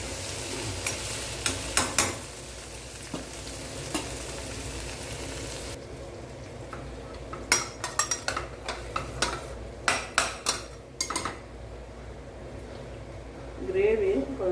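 Onion and tomato gravy for a green chickpea dish simmers in a pan while a spoon scrapes and clinks against the metal in scattered bursts, with a soft sizzle beneath and voices talking at times.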